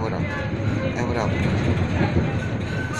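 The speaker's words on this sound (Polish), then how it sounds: "Stary tramwaj, proszę bardzo" An old tram runs with a continuous rumbling, rattling drone throughout, while a person talks over it close by.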